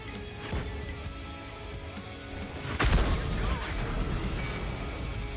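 Artillery fire in World of Tanks: one loud, heavy boom lands about three seconds in and rumbles out against a steady bed of battlefield noise and lighter distant shots.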